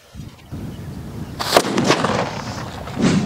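Sippai vedi firecracker set off outdoors in a village crackers test, giving a sharp bang followed by crackling bursts and a second pop near the end, fairly close and loud with no talk.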